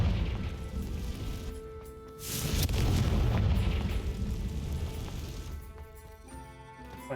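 A Confringo spell explodes in Hogwarts Legacy as a deep, booming blast. It swells into a roaring crash that slowly dies away and leaves a quieter rumble of ambient game sound.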